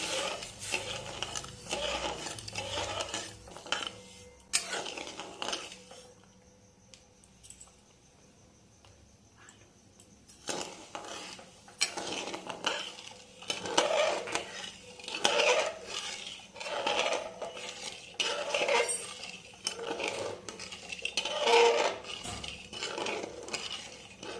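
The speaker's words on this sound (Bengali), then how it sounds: "চিনিটা যতক্ষণ না গলে ততক্ষণ পর্যন্ত আমি এটাকে নাড়বো" Sugar being stirred in a pan until it melts for a traditional Bengali coconut sandesh: irregular scraping and clinking of a spoon against the pan in bursts, with a quieter pause in the middle, close by with no talking.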